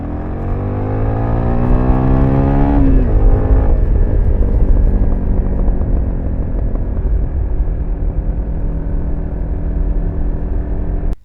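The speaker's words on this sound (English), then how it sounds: "The sound of the bike is meh and a little weird. It's weird in that it does not sound quite like a normal dirt bike." A carbureted SSR 250 dirt bike engine runs steadily and loud and close, with a rise in revs early on then settling into a continuous drone that cuts off abruptly at the end.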